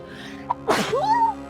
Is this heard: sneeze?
yes